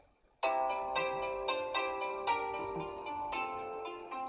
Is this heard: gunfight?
no